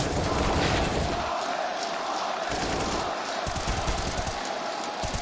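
A large esports crowd at a Counter-Strike grand final roars and cheers continuously, loud and dense, swelling in waves filling an arena.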